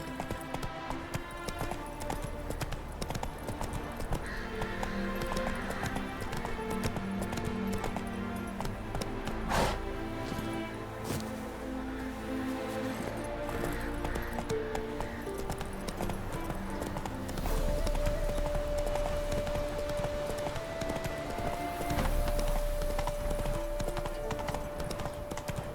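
In The Witcher 3, a horse gallops with a rapid, steady clip-clop of hooves that runs the whole time under game music, with occasional creaks and rattles of tack and a rising tone toward the end.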